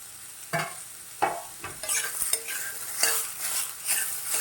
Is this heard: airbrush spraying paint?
no